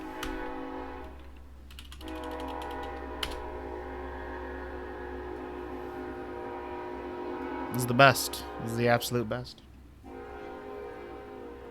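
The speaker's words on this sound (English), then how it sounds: "Lovely train." A train passes somewhere outside, its long sustained horn-like tone droning steadily in the background while a person talks over it, with brief louder bursts of voice near the end.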